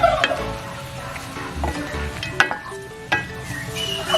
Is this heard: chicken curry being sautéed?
yes